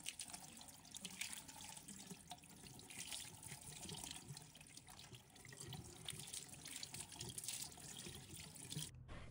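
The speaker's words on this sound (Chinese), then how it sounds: "削好皮后，把它清洗干净。" Peeled taro is washed under a running kitchen tap, giving a faint, steady stream of splashing water that stops abruptly near the end, with no talk.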